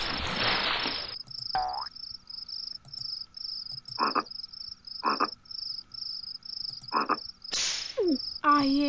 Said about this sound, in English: Okay, so I'm clicking the frog.